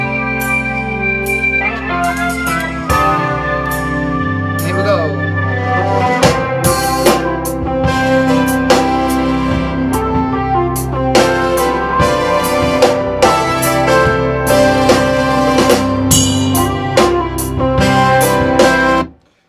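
Drum kit played sparsely with a teaspoon, light tapping accents shifting around over a dense, loud backing track of sustained tones, close and steady throughout.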